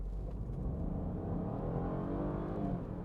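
Mini Cooper accelerating hard from a standstill toward 100 km/h, a steady close engine roar climbing in pitch through the revs, heard from inside the car with no talk.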